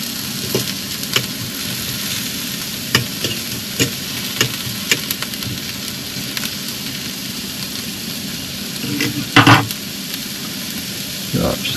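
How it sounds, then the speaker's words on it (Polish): Scrambled eggs fry in a pan outdoors at a blues festival, with a steady, loud sizzle and scattered stirring scrapes, plus a brief clatter near the end. "O, w tej pozycji też można tutaj smażyć."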